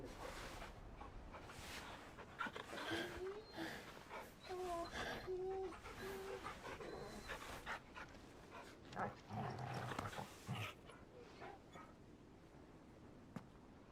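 Dog sounds in a fantasy action video game, brief panting and whimpers mixed under swelling orchestral music and game effects, fairly soft and in the background.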